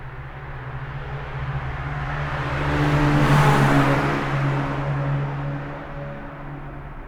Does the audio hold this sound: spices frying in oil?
no